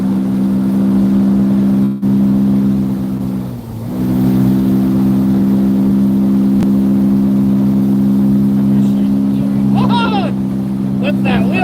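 A speedboat engine drones steadily with a strong low hum, dipping briefly as the throttle shifts before settling back to a sustained loud roar, with voices and a few sharp squeals near the end.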